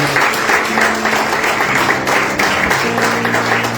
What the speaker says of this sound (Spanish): Dale un aplauso fuerte a Cristo.